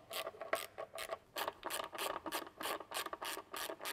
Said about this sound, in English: We're going to start by removing the Torx bits and then breaking the seal.